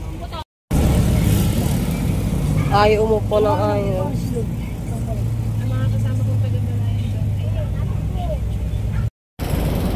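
A jeepney's engine drones and rumbles steadily as the jeep pulls away, loud and close from inside, while voices talk over it.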